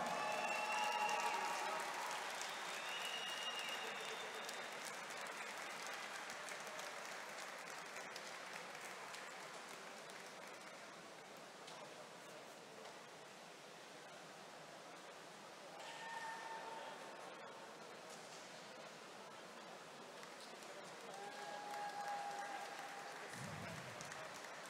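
A crowd at a youth national swimming championship podium ceremony applauds medal-winning athletes in steady, sustained clapping that rises and dips over about twenty-five seconds, with voices mixed in.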